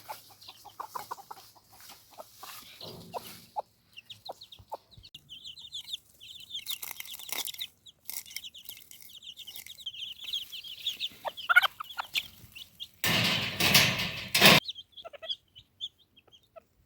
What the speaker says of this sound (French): Et voilà les petits poussins.